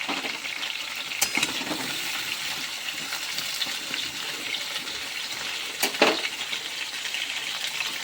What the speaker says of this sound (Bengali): দেখতে পাচ্ছ এখন আমার আলুগুলো প্রায় ভাজা হয়ে গেছে